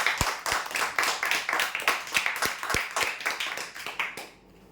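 Audience applause for a prize winner at a weekly lucky draw ceremony, with a steady burst of handclaps over several seconds that stops abruptly near the end.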